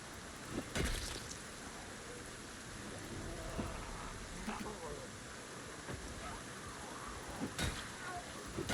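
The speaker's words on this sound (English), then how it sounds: "I'm not loving all this rain." Steady heavy rain falls in Project Zomboid, a dense continuous hiss across the whole stretch, with a few brief louder crackles standing out over the downpour.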